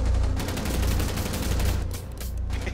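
Gunfire in Rainbow Six Siege on the Kafe map during a hostage match, a dense stretch of rapid rattling shots at moderate volume, slightly thinning toward the end, with no voices.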